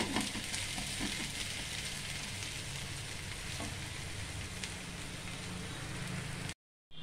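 Moong dal dosa frying in groundnut oil on a hot pan, giving a steady, close sizzle with crackling throughout that cuts off abruptly near the end.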